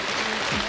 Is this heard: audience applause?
yes